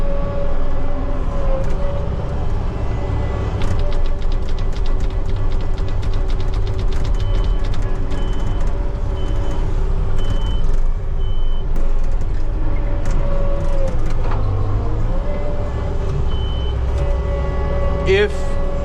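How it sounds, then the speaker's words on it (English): A Kubota SVL 75-3 working a deep drain-field ditch, digging dirt in place of a skid steer. A diesel engine runs steadily throughout, with clanks, scraping bucket hits and reversing beeps close by. There is no talk. "we're going to use the excavator to take the dirt out of the ditch"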